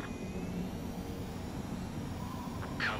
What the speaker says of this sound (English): Attempting to land. I don't think my plane will make it.